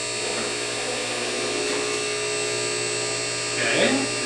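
A used electric lift motor whines steadily as the lift raises evenly, a constant mid-pitched electric hum running throughout, swelling slightly near the end, with a voice talking faintly underneath.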